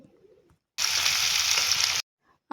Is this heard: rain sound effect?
no